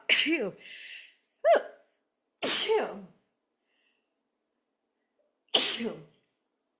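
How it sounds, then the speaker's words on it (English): A woman's sneeze, a sharp close burst followed by gasping breaths and a second sneeze a few seconds later, alone without talk. "So yes, I just sneezed on YouTube."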